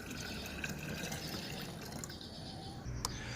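Water poured into a homemade cucumber fertilizer mixture to dilute it, a steady soft liquid wash running throughout with a brief splash near the end, fairly quiet and close.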